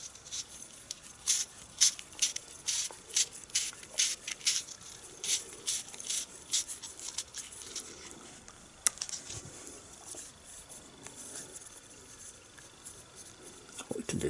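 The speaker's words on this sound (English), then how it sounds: "apply the Teflon tape" Teflon tape is wrapped around a plumbing compression fitting, giving quiet, close, crinkly rustles and light ticking in uneven bursts, fading to a softer hiss later.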